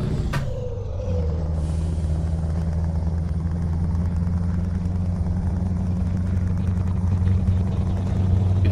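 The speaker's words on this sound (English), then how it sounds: "You can hear the engine though." Damaged truck engine in Euro Truck Simulator 2, running rough after a crash and missing its 14th gear: a loud, steady low drone with a brief hiss at the start, then constant rumbling.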